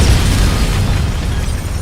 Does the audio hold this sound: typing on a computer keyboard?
no